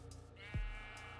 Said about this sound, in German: Ja, du bist ein Schaf.